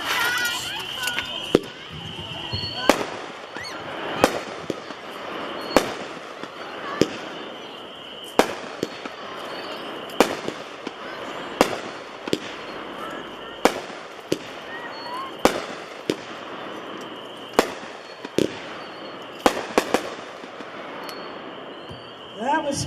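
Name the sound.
Party Animal 12-shot firework repeater by Pirate King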